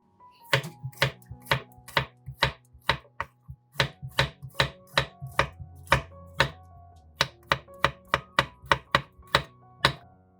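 Garlic cloves chopped with a knife on a cutting board for homemade tomato sauce, a quick run of crisp, close knocks in an uneven but steady rhythm with short pauses, alone with no voices.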